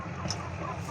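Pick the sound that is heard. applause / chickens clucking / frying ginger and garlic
chickens clucking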